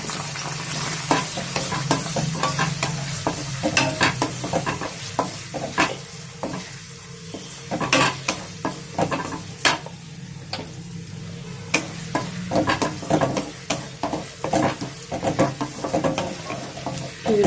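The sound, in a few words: onions, green chillies and curry leaves frying in hot oil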